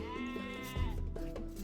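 A goat in the Age of Empires video game gives one short, wavering bleat, clear and upfront, followed by a deeper game thud.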